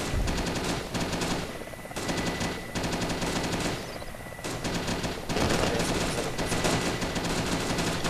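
Dense bursts of automatic gunfire in a cooperative military shooter game, loud and nearly continuous, with brief lulls between volleys and no talking.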